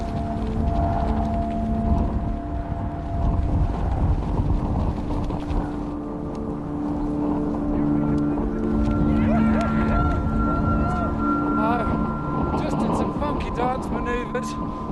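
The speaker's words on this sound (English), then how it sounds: "We're in one heck of a blizzard here." Strong blizzard wind in the Gobi desert roaring steadily against the microphone, loud and continuous, with a person talking through it.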